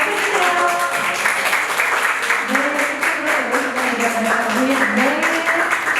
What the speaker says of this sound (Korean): 우리 윤수영 작가님 뜨거운 박수를 맞아주세요. 박수 주세요.